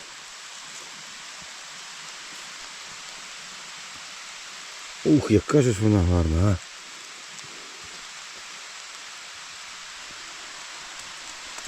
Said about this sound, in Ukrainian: Під дощем.